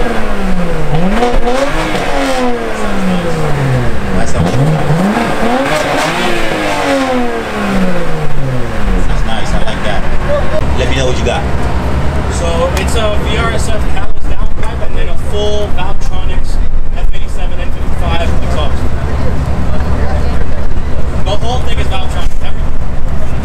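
A BMW fitted with VRSF catalyst downpipes and a valved exhaust revs repeatedly in sport mode, its engine note rising and falling in loud sweeps before settling into a rougher idle rumble, with people talking nearby throughout.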